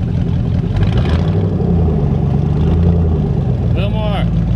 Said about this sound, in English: Give a little bit of gas.